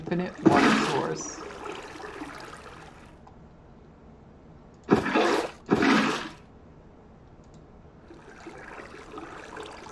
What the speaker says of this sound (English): Now we can put it right there, and that'll create an infinite water source.